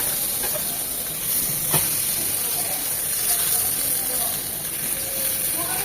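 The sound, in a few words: eggplant dry-frying in a pan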